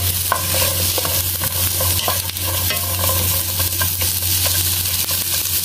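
Chicken pieces cooking in a dry pan before any oil goes in, with a steady close sizzle and frequent stirring scrapes and clinks throughout, no talk.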